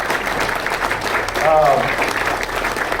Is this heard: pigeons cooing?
no